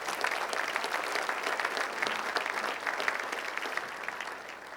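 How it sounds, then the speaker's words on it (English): Another round of audience applause at a city of Hawthorne civic gathering: steady, sustained clapping from a room full of people at moderate distance, easing slightly toward the end. "Please give them another round of applause."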